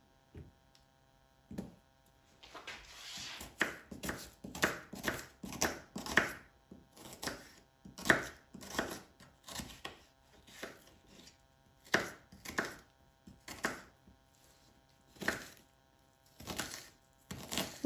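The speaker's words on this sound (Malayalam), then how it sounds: "ഇന്നൊരു ഒനിയൻ അതും ചെറുതായിട്ട് നുറുക്കിയെടുക്കാം." An onion is chopped finely with a knife on a board for a cucumber salad, giving a steady run of crisp, close knife strikes at an even rhythm with short pauses and no talk.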